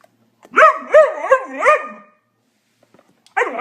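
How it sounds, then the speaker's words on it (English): A dog howls like a wolf in a short series of rising and falling wavering yowls, close and clear, then breaks off into silence before starting another howl at the end. "Quincy, howl like a wolf."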